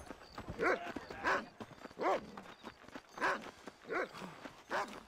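A dog in the Red Dead Redemption video game barks about seven times in a steady, evenly spaced rhythm. The barks are fairly loud and close, with no talk over them.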